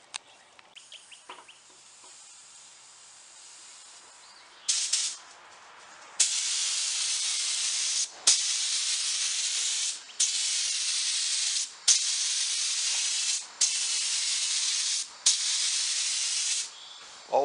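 Spray gun laying a light mist coat of lacquer onto a wood finish, in a series of steady hissing passes of about two seconds each, separated by short pauses, close and loud.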